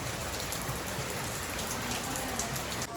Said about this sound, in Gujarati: એટલે તો વરસાદ અચાનક જ આવી ગયો